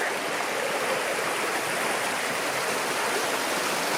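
Doe Tor Brook on Dartmoor flows steadily nearby, a dense, unbroken rush of water over rocks that stays even and fairly loud throughout with no voices.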